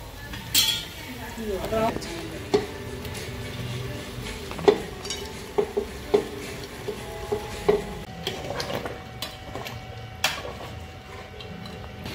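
Onions browning in a pan for a dal mundi dish, with a soft sizzle under repeated metallic spoon clinks and scrapes against the pan, and a voice talking over it.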